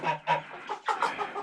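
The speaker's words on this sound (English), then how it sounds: "Yeah, you're a rooster." Rooster on a snowy farm clucking in a quick run of several short, close calls, fairly quiet with no voices over it.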